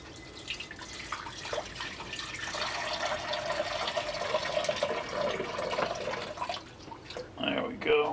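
Water is poured for a pet snake, a steady splashing trickle that runs for several seconds and ends in a brief burst of clinking, with low talk mixed in.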